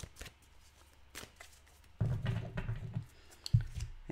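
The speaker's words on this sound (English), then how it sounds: "we'll give the cards a fast shuffle" Tarot cards are given a fast shuffle: faint scattered riffles and taps at first, then a louder, denser burst of shuffling close by, ending with a sharp snap of the deck.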